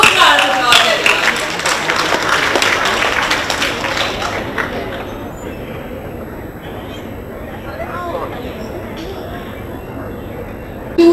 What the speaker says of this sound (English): Let's welcome her with a huge round of applause, everyone.